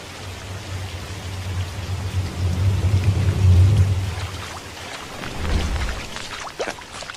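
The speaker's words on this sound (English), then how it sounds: "have you seen the rain effects? It's like the developers sat outside in a thunderstorm for weeks" Rain and thunderstorm effects from a video game: a steady hiss of rainfall with rolling thunder that swells and fades, loud and close, with no talking.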